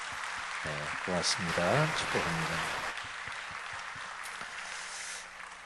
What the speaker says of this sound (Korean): 우리 격려의 박수 한번.